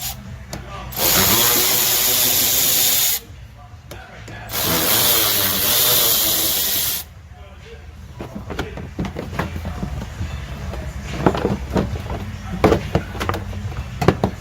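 Two long bursts of loud, steady whirring and hissing from a vehicle lift raise a car for inspection in a repair shop. Clanks and rustles follow as the machinery settles, with shop noise continuing afterward.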